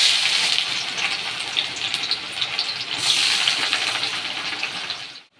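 Onions drop into hot oil in a wok and sizzle loudly, with a steady bright hiss that swells midway and then cuts off abruptly at the end, with no voices.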